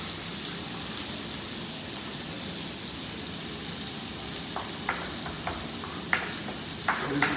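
Vegetables cooking in hot oil over a low flame, a soft, steady sizzle with scattered sharp pops and crackles growing toward the end, no voices.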